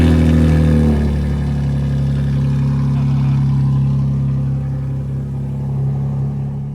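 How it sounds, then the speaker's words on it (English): A 2025 BMW M4 Competition xDrive fires up with a loud, deep burst, then settles into a steady, heavy rumbling idle close by. "Start it up, guys. Let's see how loud this thing is."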